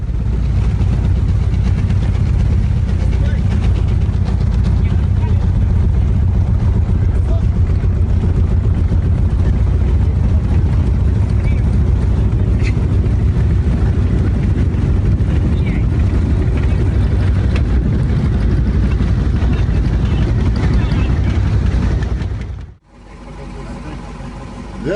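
A passenger aircraft comes down hard on a rough landing in Peru, a loud, continuous engine drone and rumble holding for about twenty-two seconds before cutting off abruptly.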